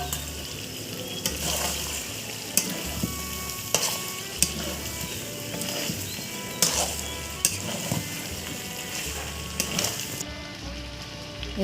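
Fried potatoes go into a pan of Bengali chicken curry simmering in oil, giving a continuous close sizzle broken by repeated spoon-stirring scrapes and knocks at a steady pace, with no talking.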